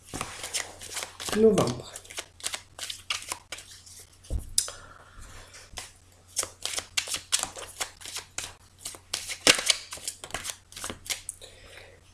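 Oracle cards are shuffled by hand for a card reading, a quick run of soft papery riffles and slaps repeating steadily at close range while someone speaks French between and over the shuffling.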